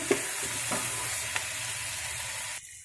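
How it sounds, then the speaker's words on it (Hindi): Chopped tomato sizzles in a hot pan for veg fried rice, a soft steady frying hiss with a few light stirring taps, then it cuts off abruptly near the end. "अब हम इसमें डाल देंगे कटा हुआ टमाटर इसको भी हल्का सा पकाएंगे"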